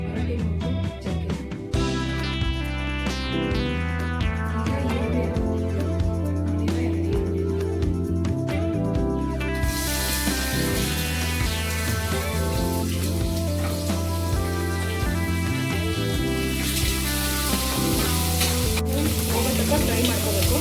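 Whole spices, bay leaf and cinnamon, frying in hot oil for mushroom biryani, a loud continuous crackling sizzle with stirring scrapes, close up and alone.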